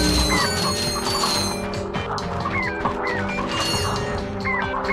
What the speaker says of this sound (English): They're just a ridiculous number of chickens now.